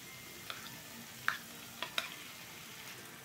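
Mashed eggplant is stirred into softened tomatoes in a pan for smoky baingan bharta, with a soft sizzle and a few sharp spoon clacks against the pan, close up and with no speech.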